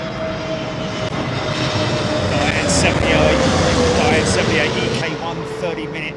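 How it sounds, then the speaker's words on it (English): Jet engines of a long queue of airliners waiting to depart at London Heathrow Airport roar continuously, a dense, loud, steady rumble with a faint whine running through it, and no break for the whole stretch. "You can hear there must be quite a long line of aircraft waiting to go out, because all I can hear is just engines."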